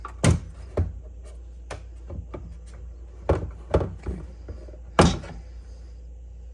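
A series of sharp plastic clicks and thunks as a Whirlpool microwave door is worked loose and lifted off, with a brief spoken word near the start.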